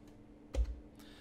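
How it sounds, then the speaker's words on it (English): A few keystrokes on a computer keyboard, a short close burst of clicks near the middle and a fainter tap toward the end, otherwise quiet. "I go down here and I type what I think about the video."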